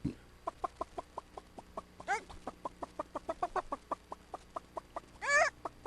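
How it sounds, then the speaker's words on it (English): A chicken clucks in a quick, steady series of short, close clucks, broken twice by a louder drawn-out squawk, with a faint low hum beneath. "I like chickens, Eddie."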